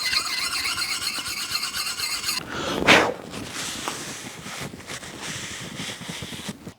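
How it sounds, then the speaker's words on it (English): A running polishing disc works against the edge of a broad axe, giving a high metallic squeal and hiss that surges briefly loud midway, then settles into a steady grinding whir. "I apply this polishing compound onto the disc while it's running"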